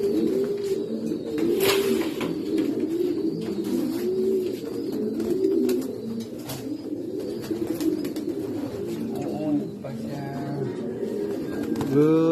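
Pigeons coo repeatedly in a rhythmic, overlapping chorus close by, with scattered chirps and faint background noise throughout.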